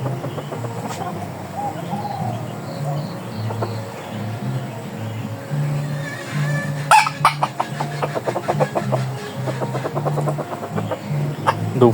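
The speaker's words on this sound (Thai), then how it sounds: "เสียงขันยังไงนะ ไก่ตัวนี้ก็ยังเป็นไก่หนุ่มนะครับ" A young yellow hybrid rooster gives short, repeated crowing calls, close and moderately loud, over a low farmyard background, followed by a patch of sharp clicking and knocking near the end.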